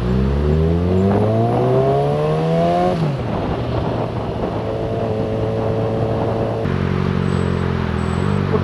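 A car creeps along in backed-up traffic on the 401 express lanes, its engine droning close and steady, pitch rising and falling with short accelerations, with no talking.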